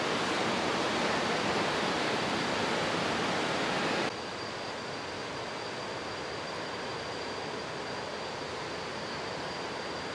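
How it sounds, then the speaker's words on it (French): A waterfall in Khao Luang National Park, Nakhon Si Thammarat, Thailand, not far off, makes a continuous broad rushing roar that drops slightly in level after a few seconds and then holds steady, with no voices. "j'entends déjà le son d'une chute d'eau pas très loin"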